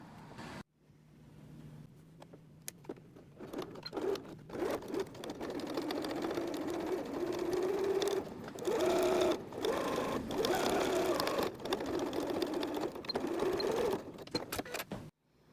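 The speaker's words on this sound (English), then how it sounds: "we'll be stitching across like this" A sewing machine stitching twill tape onto a tea towel apron runs in a close, steady mechanical whir with short pauses and restarts, its speed shifting slightly as the fabric is guided.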